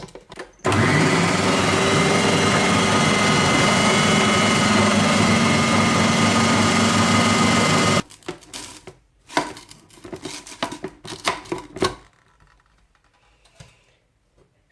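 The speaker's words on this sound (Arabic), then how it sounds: "وغنعاود نطحن اللوز مع السكر يطحن مزيان." A blender grinds almonds with sugar in a loud, steady whirring burst lasting about seven seconds, then stops abruptly, followed by a few clattering knocks and rattles as the jar is handled.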